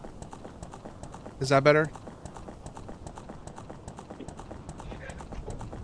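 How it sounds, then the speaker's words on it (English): Footstep sound effects from Ocarina of Time on the 3DS, rapid rhythmic clip-clop steps that sound harsh and distorted, running continuously under a brief spoken question. "it sounds every single footstep is blowing out the microphone"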